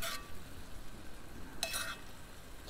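Buttered Brussels sprouts sizzle in a Dutch oven, then a short burst of scraping and rattling as they are tossed, close and moderate in level with no talking.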